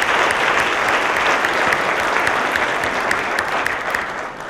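A large conference audience applauds at a training event, a dense, steady wash of clapping that stays loud and full throughout, easing slightly toward the end, with no voices over it.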